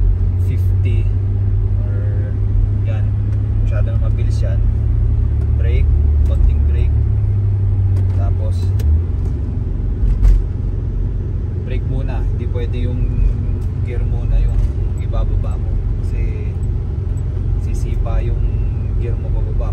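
An automatic-transmission car drives downhill, its engine a continuous low rumble with a heavier drone early on, while someone talks throughout.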